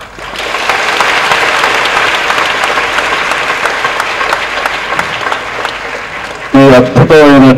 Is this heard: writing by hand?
no